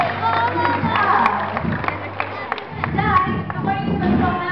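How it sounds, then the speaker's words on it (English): An audience at a sea lion show in Subic claps and cheers in scattered bursts, while a presenter's amplified voice and crowd chatter carry on over the applause. "Let's have a nice round of applause for Zoe"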